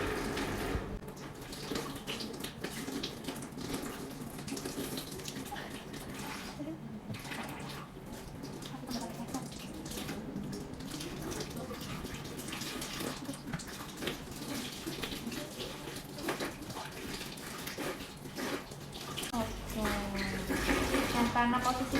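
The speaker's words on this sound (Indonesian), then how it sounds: "membilas tangan sampai bersih" Tap water runs steadily while hands are rinsed during a handwashing demonstration, a continuous splashing wash with faint talk over it and a louder gush near the end.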